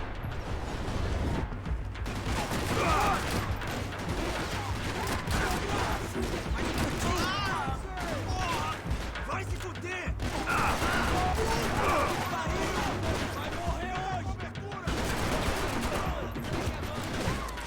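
Gunshots in the action shooter Max Payne 3, repeated bursts of fire scattered across a busy mix of music, impacts and game effects, with voices talking at times.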